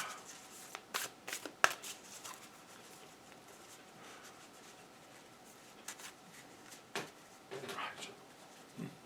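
Goddess oracle cards are shuffled by hand in a quiet room, giving a few sharp riffling snaps early on and softer scattered card rustles later.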